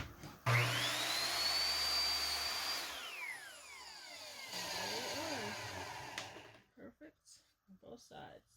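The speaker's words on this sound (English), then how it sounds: "I set my miter saw at a 45-degree angle" A miter saw set at a 45-degree angle cuts a wooden fence picket: a loud motor whine spins up, bites through the wood for a couple of seconds, then winds down, followed by a few faint knocks.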